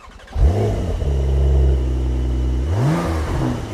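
Brabus-tuned Porsche 911 Turbo S engine cranks and fires up, then swells into a loud, sustained rev before dropping and rising again in a second shorter blip, close and alone without voices.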